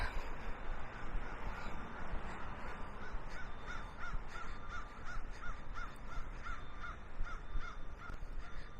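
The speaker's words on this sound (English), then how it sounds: "That is one loud crow." A crow caws repeatedly in a steady series of sharp calls over a dense background rumble, fairly close by.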